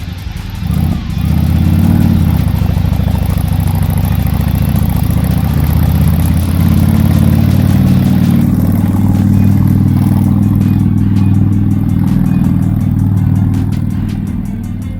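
Honda Shadow 750 Spirit motorcycle rumbling around the block, a loud, steady low engine drone that holds for the whole stretch with slight rises and falls, close by.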